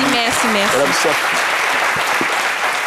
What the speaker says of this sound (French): Nous vous raccompagnons avec des applaudissements renouvelés par le public